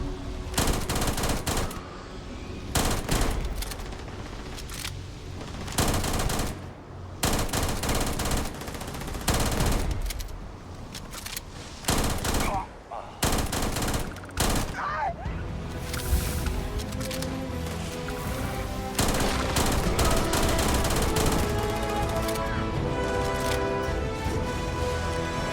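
Sustained automatic gunfire in the space game Starfield with mods, long rapid bursts broken by short pauses and then continuous firing near the end, loud and close with heavy layered shots.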